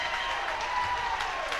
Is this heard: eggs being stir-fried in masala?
no